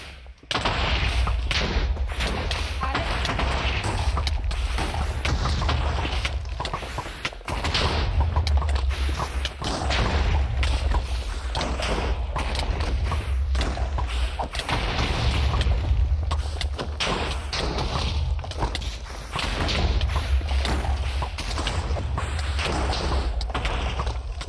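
Bombs exploding in Minecraft survival during a battle with Withers, a dense, continuous barrage of heavy booms and thuds lasting the whole stretch, loud and close.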